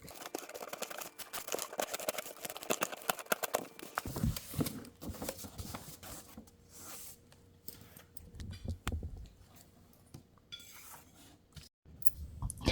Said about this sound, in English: now we're going to take the scissors, and we're going to trim around where we just glued the sides